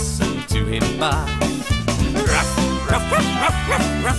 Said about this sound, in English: Here comes Wagsy, listen to him bark.